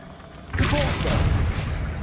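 A Depulso spell cast in Hogwarts Legacy: after a brief quiet moment, a sudden whooshing blast swells and sustains for over a second before easing off, fairly loud and alone.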